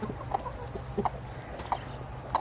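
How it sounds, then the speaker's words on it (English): A broody hen clucking in low, throaty bursts, four or five spaced calls over a steady background hum, close by. "You can tell a broody hen."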